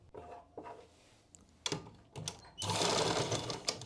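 Sewing machine stitching a suit: a few short stop-start whirs, then a steady continuous run of rapid needle chatter over the last second, close and fairly quiet.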